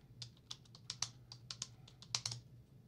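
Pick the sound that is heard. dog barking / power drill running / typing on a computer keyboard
typing on a computer keyboard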